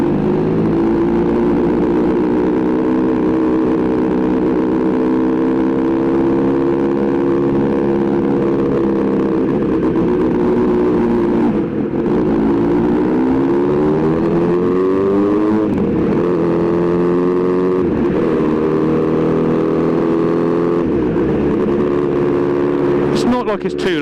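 Kawasaki Z900RS Cafe motorcycle fitted with a Full Racefit titanium exhaust, a loud steady engine drone with harmonic tones rising and falling as revs change, running continuously with someone talking over it.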